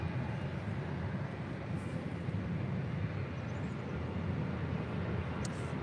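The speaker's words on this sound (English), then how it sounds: "That is American Airlines 1541 departing to Los Cabos on an A321." An American Airlines Airbus A321 departing LAX, heard as a steady, broad jet roar with strong low rumble that holds at an even level throughout, no voices over it.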